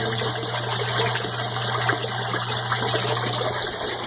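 Pumped water drains from aquaponics grow beds, a continuous rushing gush with a steady low pump hum beneath, close and even throughout.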